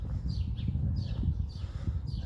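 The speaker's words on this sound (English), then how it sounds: "lots of birds." Faint, repeated bird chirps over steady outdoor background noise at a resort in Antalya, Turkey, recurring roughly every half second.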